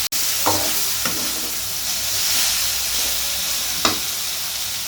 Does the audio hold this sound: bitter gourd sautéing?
yes